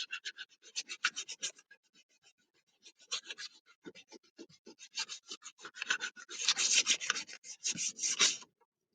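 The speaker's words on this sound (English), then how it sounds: "come on the edge here and break that so it's nice and smooth" A wooden box edge is sanded by hand with a soft, rasping rub in short repeated strokes, close and fairly quiet, in uneven bursts with brief pauses and a louder run toward the end.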